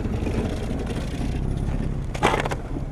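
Land Rover rolling slowly along a dusty track on the Mongol Rally with a loose, cable-tied exhaust; a steady rumbling engine drone with gravelly crunching, close and continuous, and a brief louder scrape near the end.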